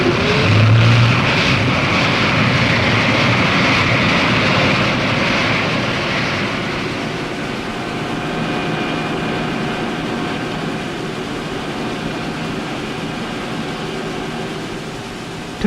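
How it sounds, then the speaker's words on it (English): Marinized gas turbines on a Navy high-speed hydrofoil ship give a loud, steady, close-up roar with a whining hum. It runs unbroken and eases slightly in the second half. "Marinized gas turbines provide the power required to keep the ship foil-borne."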